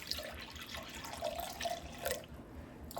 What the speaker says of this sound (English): So I'm going to pour 8 ounces off into this.